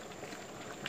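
A pot of native chicken tinola soup with malunggay and chili leaves bubbles at a steady boil, giving a dense, even hiss and soft bubbling throughout, close and alone with no voices.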